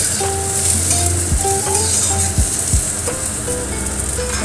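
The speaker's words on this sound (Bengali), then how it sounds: "কড়াইতে সর্ষের তেল দিয়ে লঙ্কা কালো দিয়ে সর্ষে ফোড়ন দিয়ে জলপাই দিয়ে নাড়াচাড়া করছি" Mustard seeds, chillies and olives sizzle steadily in hot mustard oil in a wok, with a continuous frying hiss broken by a few scraping stirs of a spatula and no voices.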